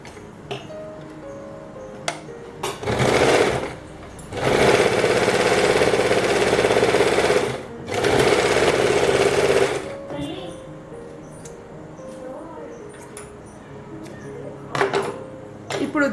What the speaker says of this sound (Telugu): ఒక డబుల్ స్టిచ్ వేస్తాను.